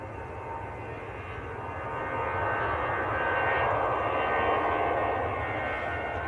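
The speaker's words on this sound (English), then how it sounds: "This is EasyJet to Nice." An EasyJet airliner bound for Nice at Manchester Airport produces a distant engine drone in early morning, swelling gradually louder midway and holding a steady whine and rumble, with no one speaking.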